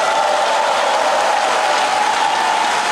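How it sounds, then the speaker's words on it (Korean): Applause from the audience at a Democratic Party regional joint rally in Korea's Chungcheong region, a steady dense wash of clapping held at constant loudness throughout, with no voices over it. "큰 박수 부탁드립니다."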